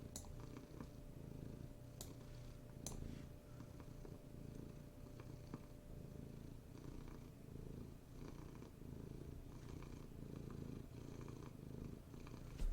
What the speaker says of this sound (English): that's my cat here